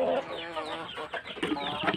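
Several laying hens of an egg-laying breed, kept with a Bangkok rooster, cluck and squawk in a continuous overlapping chatter close by, with brief louder calls rising through the flock noise.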